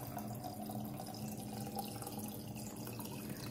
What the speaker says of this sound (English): And all we do is just cover this with water.